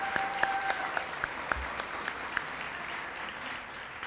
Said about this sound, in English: Round of applause for Karrington.